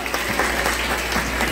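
Steady audience applause fills a civic anniversary ceremony for a town's 30th year, dense continuous clapping from a crowd at close range with no talk over it.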